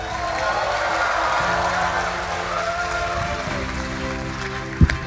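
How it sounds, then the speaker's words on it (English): A large crowd applauds at a tech keynote as a company CEO walks on stage. The broad, steady applause runs under sustained musical tones, with a sharp thump near the end. "Let's give him a big applause."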